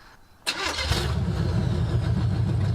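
A Chevrolet C10 squarebody truck with a 350 engine cranks and catches with a sharp burst, then settles straight into a loud, even idle, close by and with no talk.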